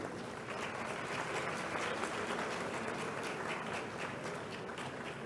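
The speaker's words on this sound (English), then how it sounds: "A round of applause one more time." A seated audience stands and gives a round of applause for an honorable minister at a university faculty's 40th anniversary ceremony, dense sustained clapping from many hands filling the hall steadily throughout.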